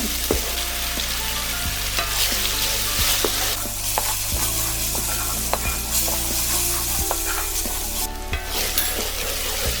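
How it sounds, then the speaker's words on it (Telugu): Ginger and garlic paste fries in masala for a fish curry, a loud steady sizzle with frequent scraping stirs of a spoon against the pan, close and continuous throughout. "ఈ అల్లం పేస్ట్ ఈ మసాలాలో బాగా వేగాలండి"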